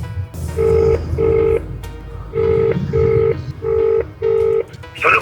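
Ringback tones of an outgoing telephone call play over a speakerphone: loud, steady paired beeps repeating in an even on-off rhythm, with low background murmur between them.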